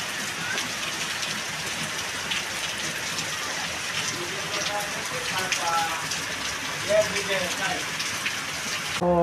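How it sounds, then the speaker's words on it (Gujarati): Steady rain falling on a village rooftop terrace, a dense continuous hiss of drops on surfaces, close and even throughout, with faint voices in the background. "આજ ફાઇનલી વરસાદ આવી ગયો છે."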